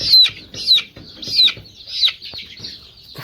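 Local chickens cluck sharply while being handled and marked with ink, roughly five quick, close bursts in a steady rhythm with no talking.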